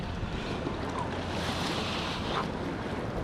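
Waves wash against an offshore rock ledge, a continuous loud rushing surge of water heard from a nearby boat, mixed with steady wind noise and no voices.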